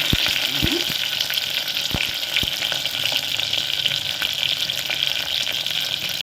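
Small onions sauté in a pan with a loud, continuous sizzle and hiss, broken by a few sharp knocks of a spatula on the pan. Just before the end the sound cuts off abruptly. No talking.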